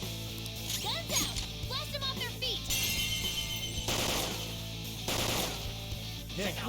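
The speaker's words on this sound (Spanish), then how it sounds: "selecciona el arma a distancia y pulsa ahí para efectuar un disparo de derribo" Several sharp gunshot bursts from the video game Persona 5 Royal ring out in a busy mix of effects and music, with a voice speaking at moments.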